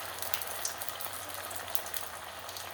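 Poha vada sizzling in hot oil, a steady soft crackle and bubbling with small popping spits, close and fairly quiet, with no voices.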